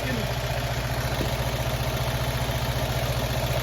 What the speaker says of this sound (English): Increase the idle RPM a little bit of gas